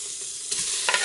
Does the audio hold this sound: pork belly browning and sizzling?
yes